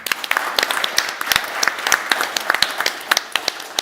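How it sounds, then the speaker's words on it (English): Audience at an innovation and technology stage event applauds a panel, a dense, steady wash of many hands clapping with sharp individual claps standing out, sustained loudly throughout. "Yes, and I will need 2 rounds of applause."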